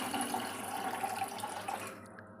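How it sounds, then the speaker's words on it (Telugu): Water runs steadily into a cooking pot with a continuous splashing rush, close by, ending abruptly near the end. "ఒక గిన్నె అయితే పెట్టుకొని దానికి సరిపడా నీళ్ళు అయితే పోసుకోవాలి"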